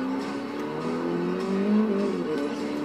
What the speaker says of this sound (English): I do like the engine in this car.